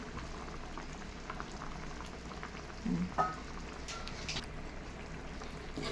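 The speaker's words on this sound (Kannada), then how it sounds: "ಸಾಂಬಾರು ಕುದೀತಾ ಇರುವಾಗ ಅದನ್ನು ಹಾಕಿ ನೀಟಾಗಿ ಬೇಯಿಸ್ಕೋಬೇಕು" Mushroom gravy bubbles at a low, steady boil in a pot, a faint continuous simmering hiss with an occasional soft stir or plop, and no speech.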